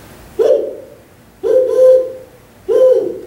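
A human voice imitates the call of a male northern spotted owl, giving three evenly spaced hooting notes, close and clear against a quiet background.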